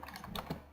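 A few quick keystrokes on a computer keyboard, close and quiet, a short burst of clicks with no one speaking.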